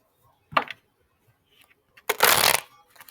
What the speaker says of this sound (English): Sometimes lately when I'm shuffling